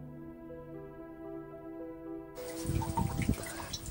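Wash water from garden vegetables trickles and drips through a carpet laid in a garden, starting abruptly partway through after a steady low tonal hum and continuing close and uneven.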